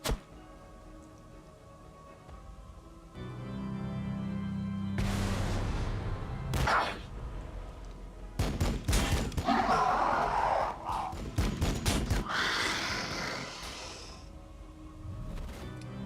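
Gunfire in the Warhammer 40k Battlesector strategy game: a low drone gives way to loud, irregular bursts of heavy shots and booming thuds. Dense clusters of shots run through the second half.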